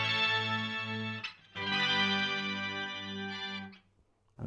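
Electric guitar played through an Electro Harmonix POG2 octave generator pedal with the octaves switched off, sustained rich chords with a slight shimmering warble, two held strums separated by a short break, close and alone.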